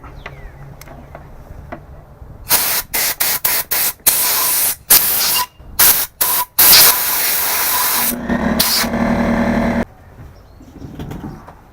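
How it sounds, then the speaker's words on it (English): Compressed air blasting sawdust out of a Stihl chainsaw in a rapid series of loud, close hissing bursts of varying length, separated by short gaps, ending in a longer sustained blast. "We're going to use some compressed air. We're going to blow all this out"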